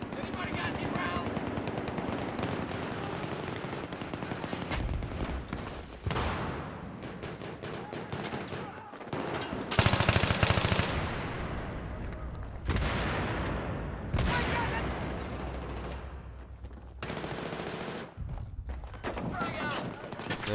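Sustained bursts of automatic gunfire in the Metro Conquest video game shooter, rapid and loud, interrupted by brief pauses and accompanied by a player talking over the action.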